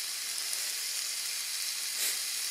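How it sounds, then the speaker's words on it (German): A steak is seared hot in a Primos Leittech nonstick pan outdoors in a forest, giving a steady, close sizzle and hiss that runs throughout with a slight swell near the end. "ich sag mal jetzt ein Steak super scharf anbraten"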